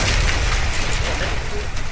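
A loud, continuous roar of explosions and gunfire fills the scene in the Warface zombie mode video game, a dense, booming wash with no break.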